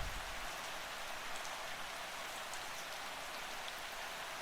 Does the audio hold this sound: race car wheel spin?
no